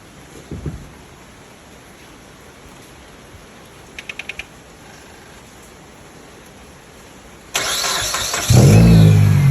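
A car engine cranks and turns over with a loud burst, then settles into a steady, close idle, after a quiet stretch with a brief clicking rattle.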